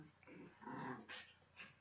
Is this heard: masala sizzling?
no